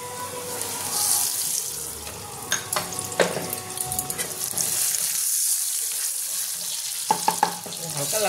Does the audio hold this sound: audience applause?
no